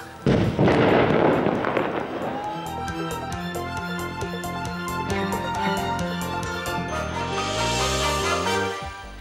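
A loud blast opens as a tunnel is blown up with explosives, followed by a long series of rhythmic booming bursts and crackling pops that continue to the end.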